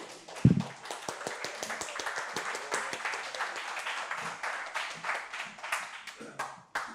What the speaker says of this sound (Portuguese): Uma salva de palmas para o evento.